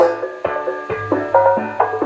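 A 10-inch Fabulous loudspeaker plays a short run of shifting tones, a few notes changing every half second, full and fairly loud with no talking.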